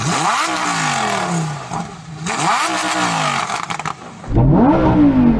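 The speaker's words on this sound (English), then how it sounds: "I'm going to rev up my engine first. A naturally aspirated V10." Lamborghini Huracán STO with a naturally aspirated V10 revs hard several times in quick blips, each rising and falling, then climbs in one long sustained rev toward the limiter, loud and close.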